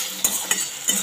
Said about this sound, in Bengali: আমি এই চিকেনটাই তেলের মধ্যে দিয়ে দিচ্ছি